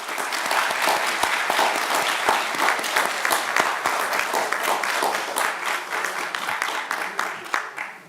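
A ceremony audience breaks into loud applause, many hands clapping in a thick continuous burst with individual sharp claps standing out, tapering slightly near the end.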